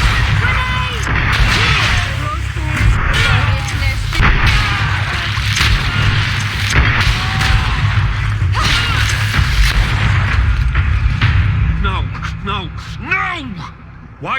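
A grenade blast in the video game Greedfall lands amid loud combat, with heavy booming impacts and clattering crashes piling up densely alongside shouting voices before the noise thins out.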